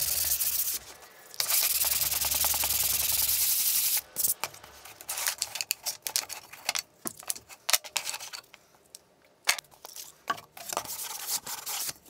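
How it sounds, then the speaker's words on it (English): A Valchromat picture frame is sanded by hand with rough, scratchy strokes that come in irregular bursts after a steady hiss at the start, close and moderately loud, with no talking. "after the glue sets a little, I give everything a sand."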